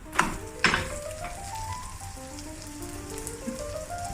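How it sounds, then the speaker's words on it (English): Scallion pancake pan frying in oil gives a steady crackling sizzle, with a couple of sharper clinks near the start and soft tonal kitchen sounds over the hiss. "Pan fry the first side until it turns golden brown."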